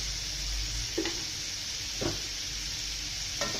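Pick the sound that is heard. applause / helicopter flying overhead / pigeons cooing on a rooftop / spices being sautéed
spices being sautéed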